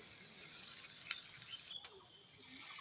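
Chicken being stirred and sautéed in a pan, giving a steady close sizzle with a few sharp scrapes and clicks from the stirring, and no talk.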